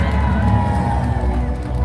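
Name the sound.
audience applause and cheering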